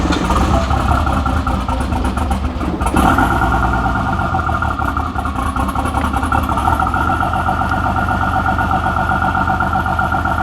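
Nissan R31 Skyline engine idling roughly after a distributor cap job, an uneven, lumpy, loud close-up idle with a brief surge partway through, wavering as if struggling to stay running.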